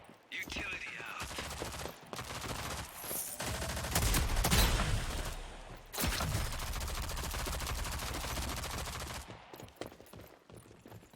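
Loud, chaotic gunfire in the Rogue Company shooter game, dense volleys swelling in the middle then cutting off abruptly, with quieter in-game ambience after.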